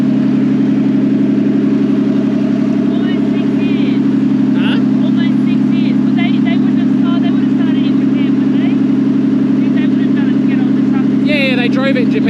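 The engine of the EBISU missile car, a Japanese-import car, idles loudly and steadily just after starting. It makes a constant low drone, and people talk over it.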